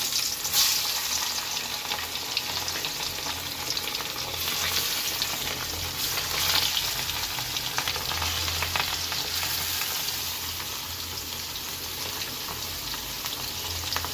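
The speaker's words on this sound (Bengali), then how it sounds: "মাছগুলো ভেজে নিচ্ছি" Continuous oily sizzling and crackling of rohu fish frying in hot mustard oil in a pan, steady and close, with occasional soft scraping.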